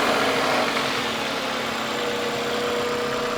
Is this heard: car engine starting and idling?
yes